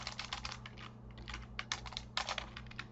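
Rapid typing of code on a computer keyboard, a steady run of light, close key clicks in irregular bursts over a faint electrical hum, with no voices.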